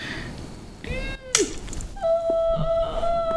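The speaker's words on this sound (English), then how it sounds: "Cat was just bumping my computer, and that's what I'm recording on." A house cat meows several times at close range, with short rising and falling cries, while some bumping against a computer occurs near the recording device.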